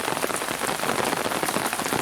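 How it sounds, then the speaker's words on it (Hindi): Hail falls steadily around a hilltop temple in Kausani, Uttaranchal, a dense continuous patter of pellets on surfaces with no voices. "हाँ, ओले गिर रहे हैं।"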